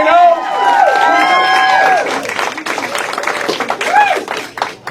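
Audience applause at a Nevada Democratic political rally, with cheering voices and a clear speaker shouting over the clapping, sustained for several seconds and tapering toward the end.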